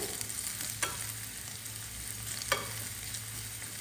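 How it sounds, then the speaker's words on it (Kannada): Crushed garlic roasting in hot oil in a pan: a continuous sizzle broken by two clear spatula scrapes, close and moderately loud, with no voices. "ಇವಾಗ ಬೆಳ್ಳುಳ್ಳಿ ಎಲ್ಲ ಹಾಕಾಗಿದೆ ಅಲ್ಲ ನೋಡಿ ಇದನ್ನು ಅಷ್ಟೇ ಸ್ವಲ್ಪ ಹೊತ್ತು ಈ ರೀತಿ ರೋಸ್ಟ್ ಮಾಡಬೇಕು"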